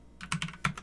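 A few quick keystrokes on a computer keyboard while entering router configuration commands, with crisp, uneven clicks standing out close and clear and no talk over them.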